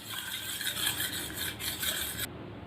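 Egg white being stirred in a bowl, a steady scraping and swishing of the utensil against the bowl that continues without pause, close and fairly quiet, with no talking.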